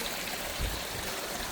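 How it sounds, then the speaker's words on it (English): Water from a small waterfall in a backyard creek system, heard as a steady, close, hissing trickle and splash with one brief low thump, and nobody talking. "The waterfall looks great."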